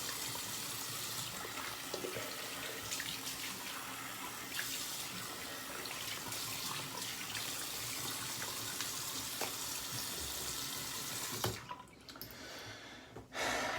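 Tap water running steadily into a sink while shaving gear is rinsed, a constant, fairly quiet hiss and splash that stops near the end, then resumes briefly.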